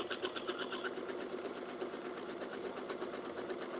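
A sewing machine runs steadily through a quilt border, its needle chattering in a fast, even rhythm with a low motor hum beneath, loud and close throughout.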